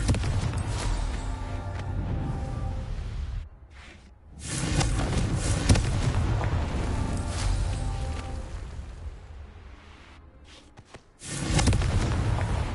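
Confringo fire spell blasts in the Hogwarts Legacy video game, a run of loud, dense explosive bursts with brief quiet gaps between them, set against game effects and no talking.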